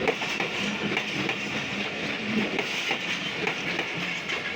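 The Karachi Express passes Khanpur railway station, a loud, steady rumble of railcars and rhythmic wheel clatter filling the whole stretch, close by and continuous with no speech.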